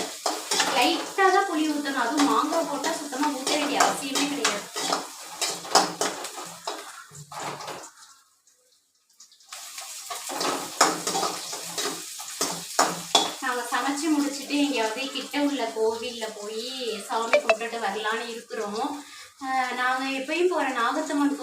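Food sizzling in a pan as chili powder is sautéed, while a utensil scrapes and stirs in uneven strokes, close by, with a short pause near the middle.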